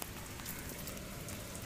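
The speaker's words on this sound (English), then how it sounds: "It's raining very hard." Heavy rain pours steadily during the Kolkata rainy season, a dense, even hiss of drops drumming on surfaces close by, with no voices.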